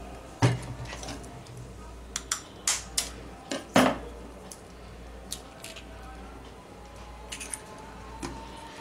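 An egg is mixed into a medium batter for egg fingers, heard as scattered clinks and taps of a utensil against a bowl, several sharp knocks spaced irregularly over quiet background.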